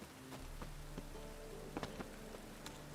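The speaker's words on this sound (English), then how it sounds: "Rain, I like rain." Steady rain in the video game The Witcher 3: Wild Hunt patters on a surface, a soft continuous hiss with a few sharper drips standing out.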